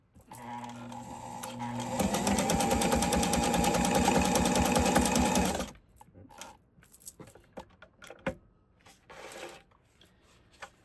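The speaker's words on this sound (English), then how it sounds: "I'll just check the zigzag stitch." A Fashion Mate 257 sewing machine stitches a zigzag in a steady, rapid mechanical run of about four seconds, followed by quieter clicks and handling knocks once it stops.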